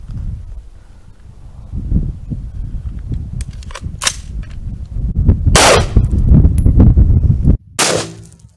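AK and AR rifle rounds fired into layered bulletproof airplane windows: three loud, sharp reports, each at a separate moment, over a low rumbling background with a few faint ticks between them.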